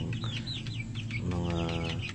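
Young hybrid cross chicks of Buff Orpington and Light Brahma, kept with larger crested chickens near a hut, peep in a steady stream of high chirps over low, continuous clucking, all close by.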